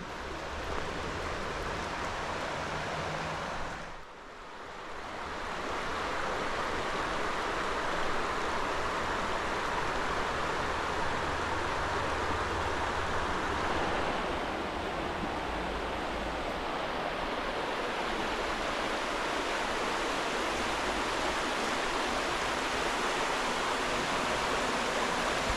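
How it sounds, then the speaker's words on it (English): A river flows steadily along a hiking trail in Mill Creek Park, Youngstown, Ohio, a continuous broadband rush of moving water, loud and close, with a brief dip near the start before the even roar resumes alone. "you hear the sounds of the relaxing sounds of the river"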